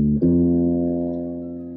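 Minor third interval played on a pitched instrument: one note, then a second entering a quarter second later, both ringing together and slowly fading, clean and alone.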